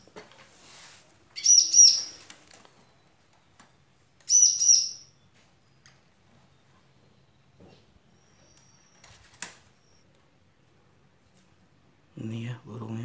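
A wild ciblek (bar-winged prinia) held in the hand gives a few short bursts of bright, high chirps spaced apart, close and clear over near silence, with a brief low noise near the end.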